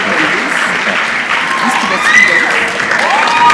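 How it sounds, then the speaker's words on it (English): Sustained audience clapping for a student award winner at a Kenyan national research festival, fairly loud and steady, with a voice faintly audible over the applause. "Round of applause for Ardew Fish"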